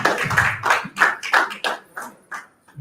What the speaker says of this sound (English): let's give one more round of applause for Slithia.